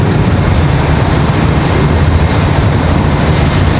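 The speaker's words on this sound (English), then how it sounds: "American Airlines 2930 coming in from Las Vegas" American Airlines airliner arriving from Las Vegas at Charlotte Douglas International, a loud, steady broadband engine roar close by with no voices.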